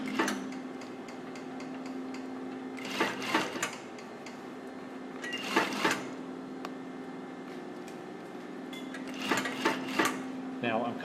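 A sewing machine stitches a seam on a blouse, starting and stopping in short bursts of rapid ticking with a steady hum between, close by, while people talk.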